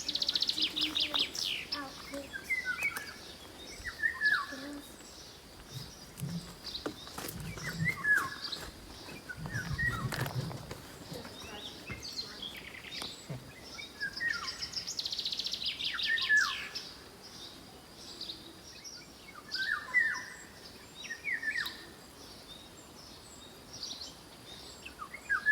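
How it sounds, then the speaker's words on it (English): Wild birds chirp and sing in scattered bursts around a French farmhouse garden, with several distinct calls and trills at moderate distance over a quiet outdoor background. "to get the bird song."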